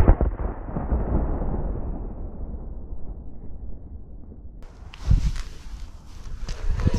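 A homemade firecracker goes off outdoors with a big booming blast that rolls away slowly, followed by a second sharp burst a few seconds later; no talking.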